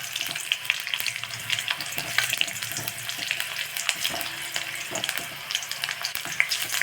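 Urad dal frying in a pan for sabudana sundal gives a steady, close sizzle with faint stirring scrapes and pops, with no voices over it.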